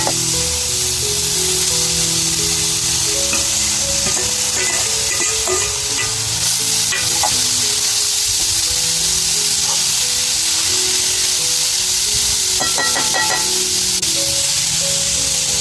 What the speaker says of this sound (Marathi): आता मी भाजी टाकून घेते.